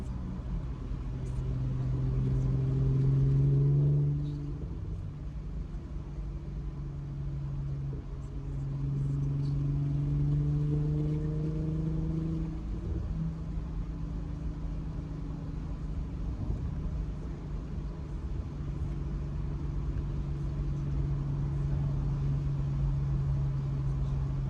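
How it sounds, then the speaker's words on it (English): Supercharged Audi B8.5 S4 with a stage 1 tune cruising, a steady low engine drone with a brief swell in pitch early on and again mid-drive, then settling into an even hum, no talking. "Supercharger does sound louder."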